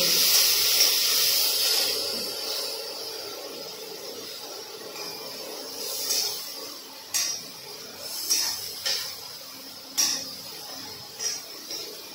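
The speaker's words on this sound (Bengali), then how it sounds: "এখন ভালো করে ভেজে নেব।" Spices frying in a pan for jackfruit curry, a loud steady hiss that eases after a couple of seconds, with sharp metallic spatula clinks against the pan at intervals.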